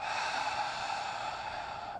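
A long, even exhale during a seated breathing exercise, a soft airy breath held steady for about two seconds, close and alone.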